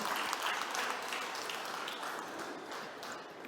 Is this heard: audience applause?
yes